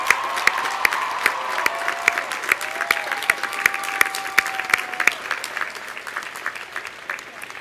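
Applause from a large audience fills a hall at a 2016 college commencement ceremony, steady dense clapping continuing for several seconds before gradually thinning toward the end.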